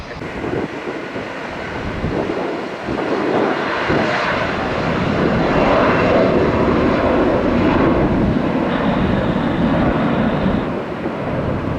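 A FedEx cargo plane taking off at Tampa airport, a loud, sustained jet engine roar that swells and stays strong throughout, with faint voices underneath.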